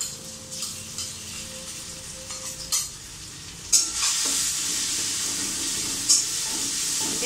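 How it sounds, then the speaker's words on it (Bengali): Food frying in a pan for a simple chhana curry, a steady bright sizzle with occasional louder bursts as it is stirred, close and continuous with no talking. "এখানে ভাজা হতে থাক"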